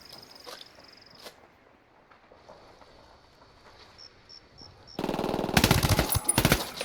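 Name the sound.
gunfire in the video game Ghost Recon: Wildlands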